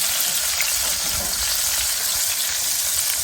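Salisbury steak patties frying in a pan, giving a loud, steady bright sizzle with no pauses and no talk.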